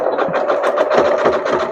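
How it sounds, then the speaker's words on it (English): A sewing machine stitches jelly roll fabric strips together in one steady, close, continuous run of rapid mechanical whirring and needle clatter. "So I'm going to sew these 2 together."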